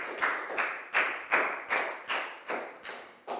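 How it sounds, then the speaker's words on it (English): A small class of children claps together in a steady, evenly spaced rhythm, about eight or nine sharp beats close up with no talk over it. "Big round of applause for Down,"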